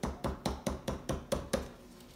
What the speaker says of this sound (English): Just tapping it till it seems like it's released.